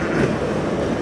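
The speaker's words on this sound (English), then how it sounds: "I've been sitting here for like 10 minutes watching this train go by." A steady rumbling roar of a passing train with faint rhythmic wheel clatter, continuous and fairly close.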